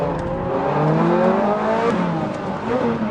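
A Ferrari 430 Scuderia engine held flat out in fourth gear at high revs on a track, a loud sustained close-up roar with rising pitch and no pause.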